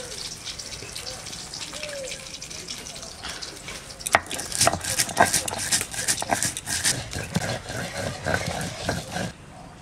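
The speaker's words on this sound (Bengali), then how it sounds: "সর্ষে আর কাঁচা লঙ্কা একসঙ্গে বেটে নেব" Mustard seeds and green chillies ground together on a stone or in a grinder, a rough scraping and knocking that picks up midway and continues in uneven bursts against a steady background hiss.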